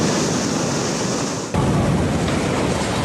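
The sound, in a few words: sea waves crashing on a seafront promenade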